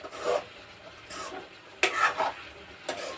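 A spoon scrapes and stirs one chopped onion and one green chili in a pan over high heat, with several rough, rasping strokes separated by short pauses over a low sizzle.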